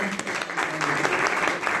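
An audience claps steadily and densely at a school celebration for the International Day of Persons with Disabilities, with a continuous roomful of applause throughout.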